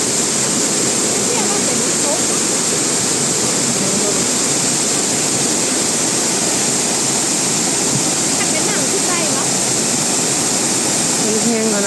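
Mae Ya waterfall in Thailand sends down rushing water as a loud, steady, close roar that fills the whole stretch, with faint voices buried beneath it.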